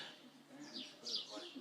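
Birds chirp outdoors in a park, with several light, rising tweets and calls in quick succession, moderately faint and alone.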